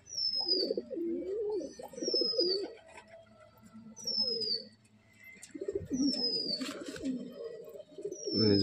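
A black-eyed male pigeon coos in repeated low rolling bursts close by, with short high chirps from other birds between them.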